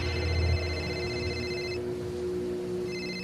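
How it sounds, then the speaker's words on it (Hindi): A mobile phone rings with a steady electronic tone, beginning mid-ring, briefly stopping and then resuming, clear and close over a low hum. "उसी समय समीर का फोन बज पड़ा"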